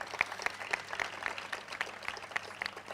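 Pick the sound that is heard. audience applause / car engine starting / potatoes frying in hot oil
audience applause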